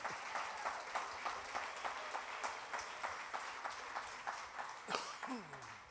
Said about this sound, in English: big round of applause for Chris Morris.